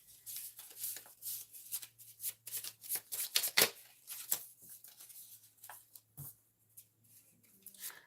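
Tarot cards are shuffled by hand in quick, crisp bursts of riffling and slapping, repeated several times close up. Short pauses fall between the bursts, and there is no talk.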